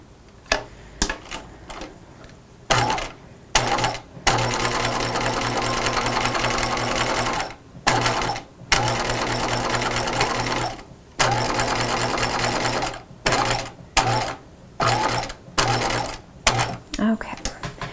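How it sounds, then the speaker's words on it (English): A home sewing machine edge stitching the long sides of a small fabric belt loop for pajamas, running in loud rapid bursts separated by short pauses, with a voice briefly heard between runs. "I'm going to stitch along the open end and then along the other side, which is a fold."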